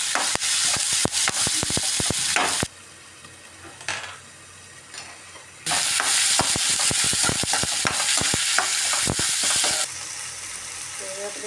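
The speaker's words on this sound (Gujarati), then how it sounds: "આદુ ડુંગળી લીંબડું ટમેટા આ બધું સરસ રીતે આપણે પકાવી લઈશું" Ginger, onion, curry leaves and tomato fry in a pan for a Kathiawadi seasoned millet flatbread, making a loud close sizzle with scraping stir strokes that drops to a quieter hiss for a few seconds before surging back.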